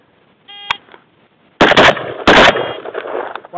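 Two sharp carbine gunshots fired about a second apart at close range on an outdoor shooting range, loud and punchy, preceded by a brief electronic beep.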